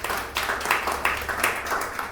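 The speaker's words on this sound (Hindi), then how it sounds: "और एक बार फिर से आप सभी के लिए जोरदार तालियां।" A congregation at a Sunday evening prayer service claps together, producing a brief, moderately loud burst of rhythmic applause.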